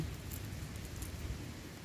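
Steady, soft rain hissing continuously, a light even patter with no voices.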